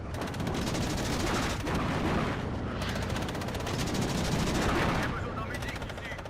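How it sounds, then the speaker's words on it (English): A 20mm autocannon fires in the WARNO real-time strategy game during a defence of Paris, loud rapid bursts that run almost continuously across the whole stretch, mixed with other gunfire and battle noise, with only brief dips between volleys. "But the 20mm firing away."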